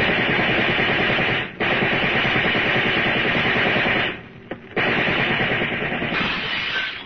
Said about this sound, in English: All right, men, open up with your riot guns.